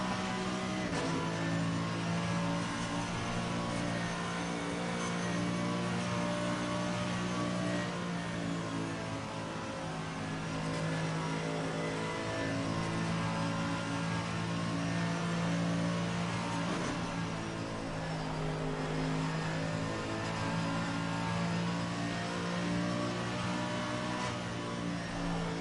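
GT3 race cars in Assetto Corsa Competizione on the Nürburgring Nordschleife, engines droning steadily and surging with revs over about 25 seconds, with no talk.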